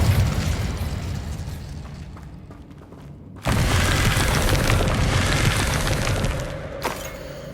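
Incendio fire spell cast in Hogwarts Legacy, a loud fiery burst that roars and crackles, fades, then erupts again with a second sustained blast and a sharp pop near the end, with no talking.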